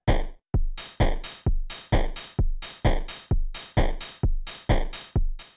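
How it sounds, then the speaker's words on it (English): House-style drum machine groove from VCV Rack samples, steady kicks and snares with an open hi-hat hissing on each upbeat, dense and loud with no talking. "If we want it to be more of a house style beat, we can add an open hi-hat on the upbeats."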